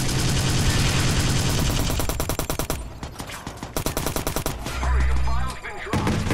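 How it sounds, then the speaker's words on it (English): Game gunfire in an armored truck match, with dense rapid automatic bursts hammering loudly and close, then choppier volleys and a heavy low blast before the firing resumes. "Someone's shooting at me."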